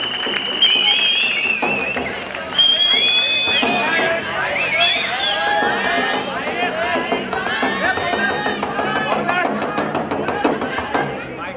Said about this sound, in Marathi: प्रणितासाठी एकदा जोरदार टाळ्या होऊन जाऊ दे.